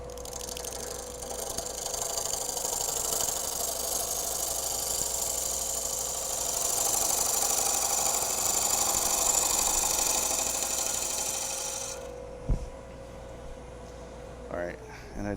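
A wood lathe spins and cuts a wooden egg with a continuous whirring hum and scraping tool noise, someone talking over it, before the machine winds down near the end.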